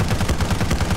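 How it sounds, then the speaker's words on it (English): Rapid automatic gunfire in the Arma 3 video game, a sustained burst of evenly spaced shots as a magazine is emptied at close range, loud and dense throughout. "Yeah, mag dump him."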